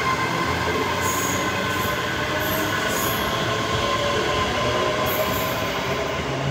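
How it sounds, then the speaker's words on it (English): A ScotRail train pulls out of Edinburgh Haymarket on the Waverley to Glasgow Central service via Shotts, its steady broadband rumble loud and close throughout, with faint high wheel squeals coming and going. "ScotRail service from Edinburgh Waverley to Glasgow Central via Shorts. We'll see that one go out in a minute."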